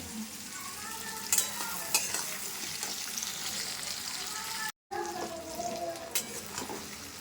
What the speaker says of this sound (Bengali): ওই তেলে আর একটু তেল দিয়ে পেঁয়াজগুলো দিয়ে দিয়েছি